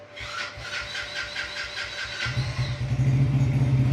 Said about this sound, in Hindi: स्टार्ट हो गया है, सेल्फ स्टार्ट से ही हुआ है।